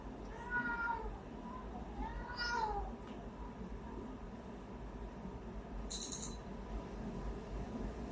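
A cat meows twice in close succession near the start, each call clear and fairly loud, then a short high squeak follows a few seconds later over a low steady background hum.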